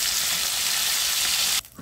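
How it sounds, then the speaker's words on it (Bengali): Pieces of stinging catfish fry in hot oil with a dense, even, close sizzle that drops off abruptly near the end, with no voices. "উল্টে পাল্টে ভালো করে ভেজে নেব"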